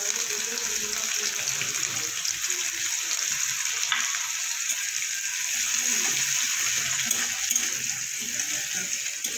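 Chopped ginger and green chilies frying in a pan, giving a steady, close sizzle that holds level through the whole stretch, with faint stirring beneath it and no voices.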